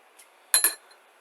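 Two quick metallic clinks of a large spoon against a dish, close and crisp, with a faint tap just before.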